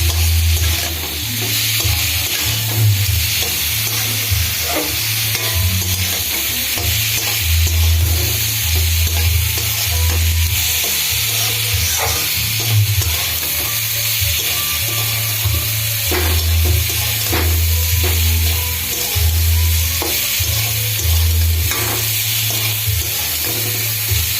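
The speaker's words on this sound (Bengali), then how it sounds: "এবার এটাকে ভালো করে নাড়বো" A chili mixture is stirred steadily in a frying pan, with a loud continuous sizzle and rhythmic scraping strokes repeating throughout at a close distance.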